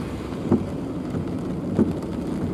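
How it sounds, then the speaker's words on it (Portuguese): Rain falls steadily as a constant hiss, broken by two short, low thumps about a second apart, with nobody speaking. "Tá chovendo."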